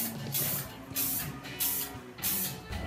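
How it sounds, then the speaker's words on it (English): Four short hissing bursts from a spray can of paint, evenly spaced with brief pauses between, close and fairly quiet, in a woodworking shop. "I've made this little just a little spray station, so just a stick it on, spray it."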